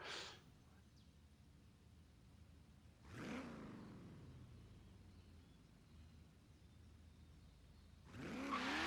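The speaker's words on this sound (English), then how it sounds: "they have the high-pitched engine sound with the turbocharger, the same as that on that car" A turbocharged car engine in the video game Forza Horizon 3 revs up with a high-pitched whine, drops away, then roars again a few seconds later, fairly quiet overall.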